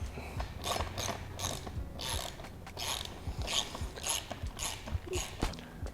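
A ratchet clicks in quick bursts while tightening the bracket hardware for a 270-degree vehicle awning, with short pauses between strokes, close and fairly quiet, no speech.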